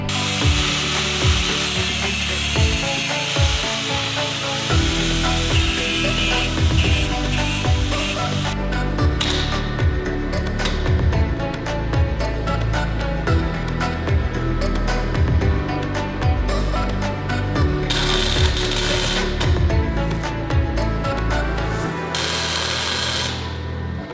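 An amateur welds on a 2007 Subaru STi, giving off a loud, steady crackling buzz with fast sputtering pulses. It runs almost without a break, with brief dips near the middle and at the end.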